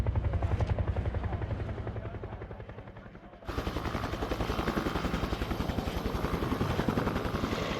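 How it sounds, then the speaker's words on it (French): A Sikorsky military rescue helicopter over high Alpine mountains, its rotor chopping in a loud, steady rapid pulse close by, with the roar growing fuller and brighter partway through. "les militaires interviennent à leur tour et envoient un hélicoptère pour les sauver"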